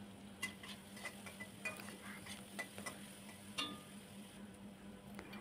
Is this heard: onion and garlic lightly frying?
yes